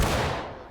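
A single heavy cannon blast in the Civil War video game War of Rights, a loud broadband boom that rolls off over under a second.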